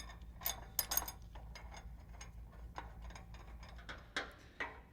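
A hand ratchet clicks in quick close bursts while bolting a shock relocation bracket onto a U-bolt on a 1967 Chevy C10 truck suspension, faint and with no talking.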